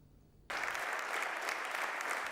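Applause at a bullfighting award ceremony for the Tauromaquia de Castilla y León prize breaks out suddenly after a quiet moment, then continues as a loud, sustained crowd clapping.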